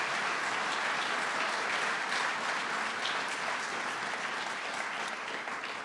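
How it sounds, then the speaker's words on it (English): A crowd's steady applause at a governor's public address on an education act, dense and sustained throughout without letup, holding an even level before easing slightly at the very end. "Let's give them another round of applause."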